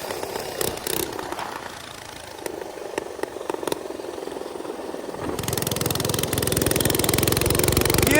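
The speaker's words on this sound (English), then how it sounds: "He got a bigger motor." A minibike engine with a bigger motor revs outdoors in mud, its buzzy two-stroke-like drone rising steadily and growing louder toward the end, with no talking.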